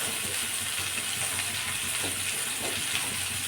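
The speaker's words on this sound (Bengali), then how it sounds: "গ্যাসটা কমিয়ে ভেজে নিচ্ছি।" Pointed gourd and potato fry over lowered gas in a pan with salt, turmeric and chilli, giving a continuous even hiss and sizzle, close and steady, with no voices.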